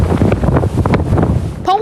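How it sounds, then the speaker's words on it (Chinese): Strong gusts of 10 to 12 force sweep a coastal area in Penghu during a typhoon, producing loud, continuous wind roar and microphone buffeting throughout, with a brief voice fragment at the end. "它那个阵风突然吹过来，你摩托车都会吹倒"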